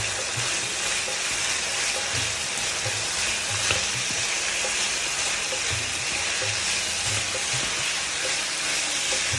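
Almonds and shallots sizzling in a pan of hot fat while being stirred, a loud steady frying hiss with soft scraping pulses throughout, close up and without talking.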